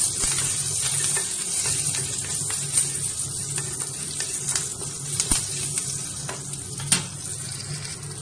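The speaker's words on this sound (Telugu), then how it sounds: "కొమ్ము శనగలు తాలింపుకి పోపులు వేగాయి కదా, కరివేపాకు వేసుకోవాలి" Curry leaves sizzle in hot tempering oil with already-fried seasoning spices for a chickpea dish, a steady close hiss with scattered sharp pops and crackles.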